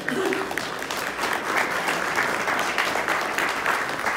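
Applause from a small entrepreneur meetup audience thanking a guest speaker, continuous close clapping of moderate loudness lasting a few seconds.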